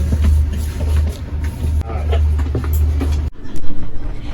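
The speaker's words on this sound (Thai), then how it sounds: "ตอนนี้ก็คือรถไฟ ออกจากสถานีหัวลำโพงแล้ว" Steady low rumble of a passenger train leaving Hua Lamphong station for Chiang Mai, with rattling and clatter, a few muffled voices underneath, ending in a sudden shift to a quieter interior.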